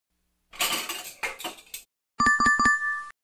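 Dishes clatter in two close bursts: first a jumble of scraping, knocking crockery, then after a short pause a run of bright, ringing clinks and chimes of dishes striking each other.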